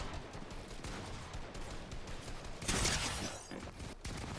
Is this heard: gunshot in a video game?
yes